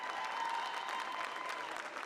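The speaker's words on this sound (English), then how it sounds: "round of applause, everyone" Audience applause at a convention panel, a steady dense wash of clapping from a crowd holding at an even level for a couple of seconds, with no voice rising above it.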